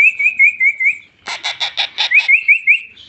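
A pet parrot answers human whistling: a person whistles a run of rising notes, the parrot breaks in with a burst of about six harsh, rapid squawking calls close by, then the whistling resumes.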